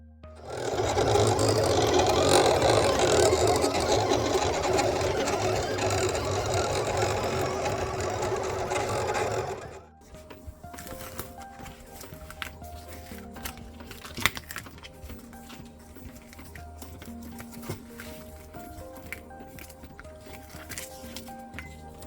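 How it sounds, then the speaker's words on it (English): A cutting machine works through vinyl sticker sheets with a dense, loud whirring rasp for about ten seconds, then quieter crackly peeling of vinyl follows with scattered ticks and light rustles. "Did you enjoy the cutting and peeling sounds?"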